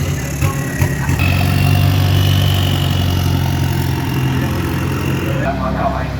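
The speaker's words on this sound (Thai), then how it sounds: "ทำรถเข้ามาจอดโชว์รอๆเลย" A diesel drag-racing car rolls in to park at a King Drag Diesel event in Thailand, its engine a steady, loud, close rumble throughout, with a voice talking over it.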